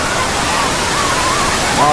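Rushing water at Wawa Dam, a loud, continuous broadband roar filling the whole stretch, with a faint voice rising briefly near the end.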